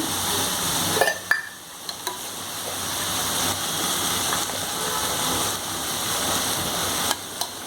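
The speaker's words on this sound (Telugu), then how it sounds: "పేస్ట్ కోసం ఇప్పుడే నేను అల్లం వెల్లుల్లి పేస్ట్ వేసేసుకుంటాను." Ginger garlic paste sizzles in a hot pan while chicken fried rice is cooked, a loud, steady frying hiss broken by a few clinks and stirring scrapes near the start and end.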